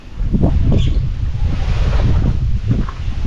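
Strong wind buffets the microphone in steady, rumbling gusts, loud and close, with no voices.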